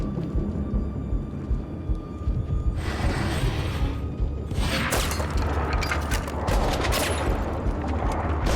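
A rocket launcher fires and explodes in a video game, with booming, crackling bursts rising out of steady rumbling background noise and several sharp blasts in the second half.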